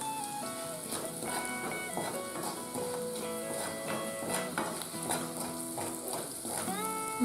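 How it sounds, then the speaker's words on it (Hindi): Salt, red chili and spices roasting in a pan for aloo sangri sabji, a steady soft sizzle with light stirring under music-like tonal sounds, moderately quiet throughout. "नमक, लाल मिर्च, मसाले को अच्छे से भुनना है।"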